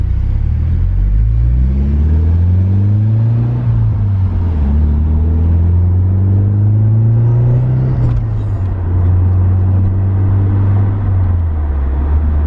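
A Nissan 180SX on the road, its engine note climbing through several gears in long rising pulls, with a steady loud drone and rumble close by and no voices.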